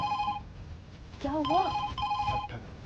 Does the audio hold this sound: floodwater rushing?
no